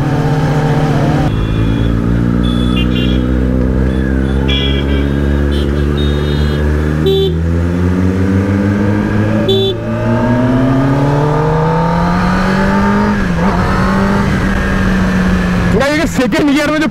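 A Kawasaki Ninja ZX-10R sportbike runs loud and close while being ridden, its engine note climbing and dropping through gear changes, with wind rush and a voice talking over it.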